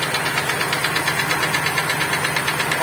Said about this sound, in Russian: Сейчас очевидно, что в двигателе после того, как мы его завели, присутствуют посторонние звуки.